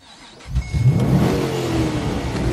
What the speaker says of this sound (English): you fire up one of the world's great engines with exactly the sort of deep chested woofling exhaust note at idle that every real muscle car needs